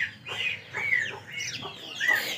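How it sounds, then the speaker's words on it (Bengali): A rooster in a rooftop cage clucks in a few close, throaty calls spaced through the moment, with no talking over it. "এই যে আমাদের মোরগটা, ও প্রস্তুত হয়ে থাকে কখন বাইর হবে।"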